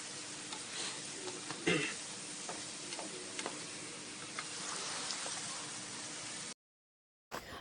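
Blue crab pieces frying in a pan for crab curry, stirred so every side touches the heat; a soft, steady sizzle runs with scraping stir strokes and occasional clacks, then drops out briefly near the end.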